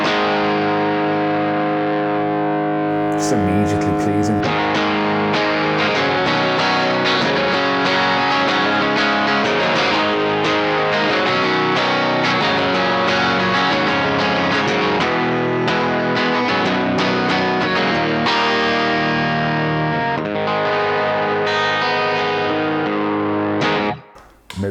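Heavily distorted electric guitar chords from a Gretsch 5230T Jet with Bigsby, played through an amp's dirty channel, ring out continuously, thick and sustained, with a brief spoken comment partway through.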